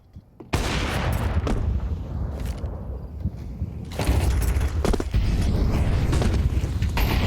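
Grenades explode in a Counter-Strike match, loud broadband blasts at the start and again around four and five seconds, layered with gunfire-like crackle and a sustained rumbling wash between bursts.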